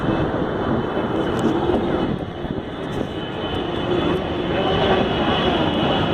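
Masses of motorcycles at a huge motorcycle meetup in Brasília produce a continuous loud engine roar, a dense mixed drone of many bikes close by with wind buffeting the microphone.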